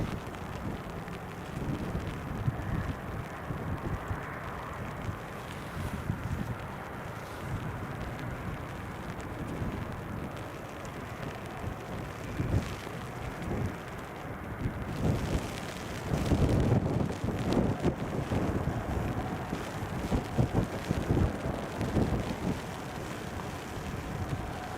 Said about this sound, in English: And the wind's picking up as well.